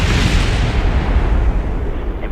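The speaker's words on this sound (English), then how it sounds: "Ooh, big explosions, and it doesn't do anything." Big explosions in the modded space flight game Kerbal Space Program roar as a loud, continuous, deep rumbling blast that fades slightly toward the end, with no voices.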